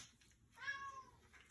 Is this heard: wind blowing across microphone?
no